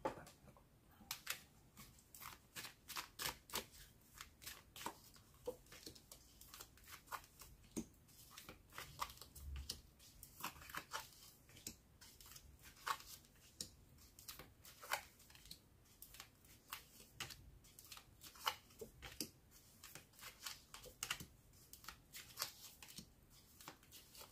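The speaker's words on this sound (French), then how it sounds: "on va faire le dernier tirage" Tarot cards being shuffled for a reading: a long run of quick, dry riffling and flicking bursts at close range, steady and fairly quiet with no talk.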